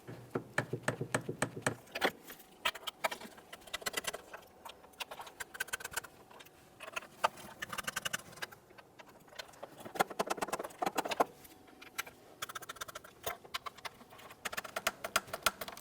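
Ratcheting and clicking of a torque wrench tightening ignition coil mounting nuts on a 3.6L V6 Jeep Grand Cherokee, rapid close mechanical ticks in repeated bursts with short pauses between them.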